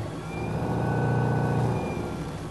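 Electric rudder drive motor of a Hanse 315 sailboat running under throttle, a steady close hum that swells slightly in the middle and then eases back, heard alone without talk.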